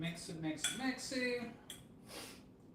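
Utensils mix a steak and potato bowl, with close metallic scraping and clinking against the dish in uneven strokes, and a voice faintly present.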